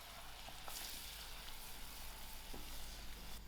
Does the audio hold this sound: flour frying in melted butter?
yes